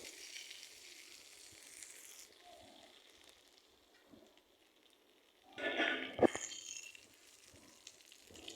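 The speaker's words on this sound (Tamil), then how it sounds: "இப்போ கருவேப்பிலை போட்டுக்கோங்க கருவேப்பிலை நல்லா பொரியட்டும்" Curry leaves frying in hot oil for tomato chutney, a faint, steady sizzle that swells into a louder crackling, spitting burst near the end, with no one talking over it.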